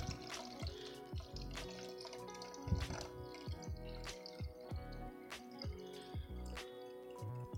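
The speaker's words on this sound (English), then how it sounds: "this is my water, and I'm just going to fill it up" Tap water trickling and dripping into a jar for a Dollar Tree Christmas truck snow globe craft, a steady run of small splashes and drips at close range, fairly quiet throughout.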